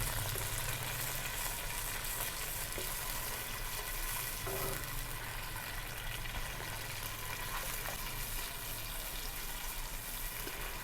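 Tomato puree sizzling and frying in hot oil in a pan while chicken biryani cooks, a steady close crackling hiss with faint stirring, no voices.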